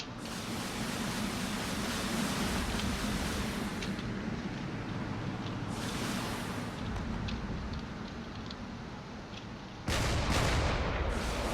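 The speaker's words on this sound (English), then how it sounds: "There's a lot of cannon fire." Cannon fire from warships, including a battleship and a corvette, in a drone battle video game: a dense, continuous rumbling barrage with scattered shots and a louder burst near the end.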